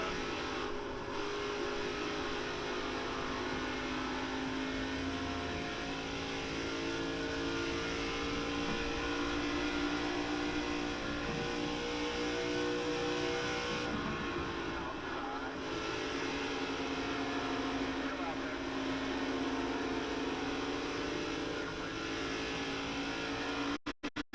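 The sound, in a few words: race car engine in iRacing racing video game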